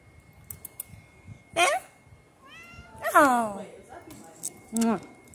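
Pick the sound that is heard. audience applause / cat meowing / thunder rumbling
cat meowing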